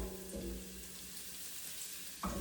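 Beef frying in a pan with minced garlic, a steady close sizzle running alone throughout, with a brief clatter of stirring near the start and another at the end.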